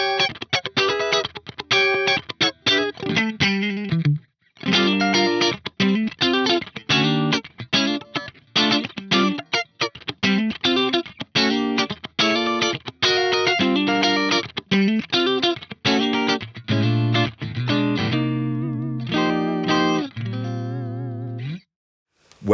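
Electric guitar played in a funk style through a Neural DSP SLO100 amp plugin with the bright switch engaged, giving a clean, bright tone. Quick, choppy rhythmic strums and single-note riffs come with short gaps, loud and up close, with no voices.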